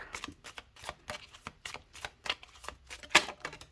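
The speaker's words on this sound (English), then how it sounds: "first I'll shuffle the cards out" Tarot cards are shuffled by hand in a quick, steady run of papery riffles and flicks, close and fairly loud, with a sharper snap near the end and no talking.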